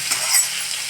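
Ginger and garlic sizzle in hot oil in a pan, a dense, close crackling hiss that holds steady with a slight swell partway through, alone with no voices.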